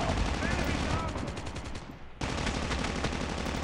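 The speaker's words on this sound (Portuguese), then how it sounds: "Agora tô tomando tiro." Rapid bursts of automatic gunfire fill a Call of Duty Mobile match, dense and continuous with a brief lull before the shooting resumes loudly.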